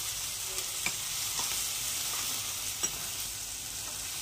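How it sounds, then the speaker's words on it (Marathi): A pinch of asafoetida sautéing in a pan for garlic-fenugreek lasuni methi: a constant low frying hiss broken by several soft spoon scrapes and taps, heard close without any talk. "चिमूटभर आपण याच्यात थोडं हिंग टाकणार आहे आणि याला पण थोडंसं असं परतून घेणार आहे."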